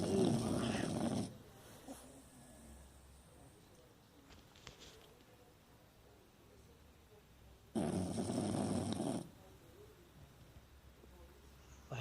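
A male Miniature Pinscher snoring in loud, raspy bursts, one at the start and another several seconds later, separated by quiet stretches.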